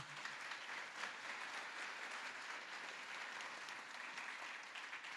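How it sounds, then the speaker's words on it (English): An audience applauds a panel of women at a leadership event, a dense, steady round of clapping that carries on without a break, fairly distant and even. "please, if you could, give a round of applause to our wonderful panel"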